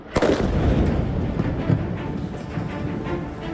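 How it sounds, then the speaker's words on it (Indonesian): A huge bomb blast tears through the Al-Roya apartment building in Gaza City, a sharp initial crack followed by a sustained, heavy rumbling roar of collapse and debris that fills the whole stretch. "Gedung apartemen Al-Roya di kota Gaza hancur dibom Israel"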